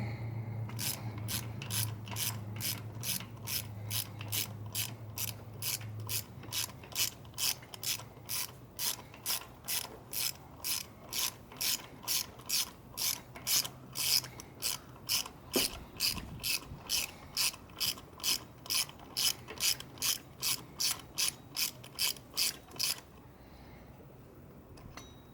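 A ratchet wrench clicks steadily and rapidly while loosening spark plugs on a 3.6L Jeep Wrangler, a long even run of sharp close ticks that stops near the end.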